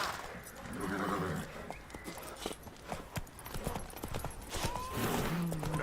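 Horse hooves clip-clop and gallop at a quick, uneven pace in The Witcher 3, set against music and ambient game sound, with a brief voice-like tone near the end.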